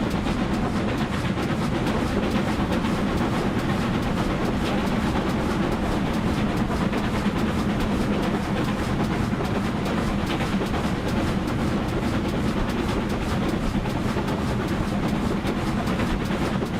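A GWR Class 6000 King steam locomotive runs in Train Simulator, giving a steady, loud, continuous rumble with rail clatter that does not let up across the whole run, with no talking.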